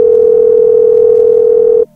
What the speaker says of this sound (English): I like how he separates the calls with a tone